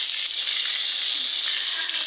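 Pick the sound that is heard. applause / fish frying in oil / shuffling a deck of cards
fish frying in oil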